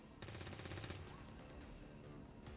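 Suppression fire in XCOM 2: War of the Chosen with the Long War mod: a rapid automatic burst that rattles loudly, then fades into a lingering rumble and quieter battle noise.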